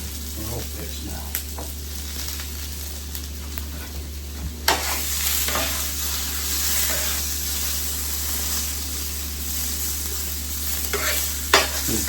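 Bell peppers sizzle steadily in a hot pan for fajitas, with a continuous frying hiss, occasional louder spatters and the scrape of stirring throughout.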